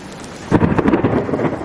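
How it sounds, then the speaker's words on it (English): Thunder rumbles through a rainstorm in Arizona, heard from inside a van, a loud low roll building suddenly over steady rain and continuing for a moment, with no voices. "And a little bit of thunder."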